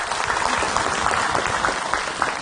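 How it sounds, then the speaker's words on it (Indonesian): Loud, dense applause from a studio audience on an Islamic television show, continuous and close for its whole short length with no voice on top. "Tepuk tangan dulu."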